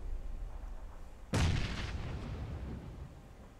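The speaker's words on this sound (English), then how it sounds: "Those are grenades." A single sharp, loud grenade blast in PUBG cuts through quiet game ambience, followed by a rumbling tail that fades over a couple of seconds.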